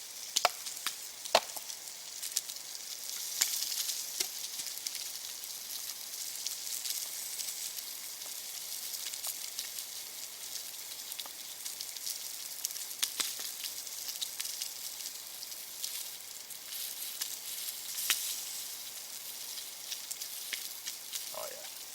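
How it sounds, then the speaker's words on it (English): Spam fries on a campfire at a wild bushcraft camp with a constant soft sizzle, dotted with occasional pops and crackles, quiet and close throughout. "I've got some spam frying away on the fire now"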